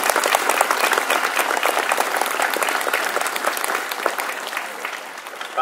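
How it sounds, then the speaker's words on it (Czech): A church congregation on a hilltop applauds at the end of mass, a dense, sustained patter of many hands that stays strong and then thins toward the end, with faint voices beneath. "Klidně můžeme zatleskat."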